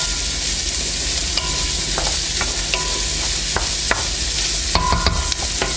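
Onions frying in a pan for poulet basquaise, a loud, constant sizzle and crackle close up with occasional scrapes and clinks of a utensil, and no voices.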